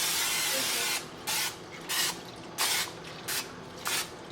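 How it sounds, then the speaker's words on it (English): Cooking spray is squirted onto a pan in about five short, hissing bursts with brief pauses between them, close and clear with no talking. "I'm gonna go ahead and spray the pan."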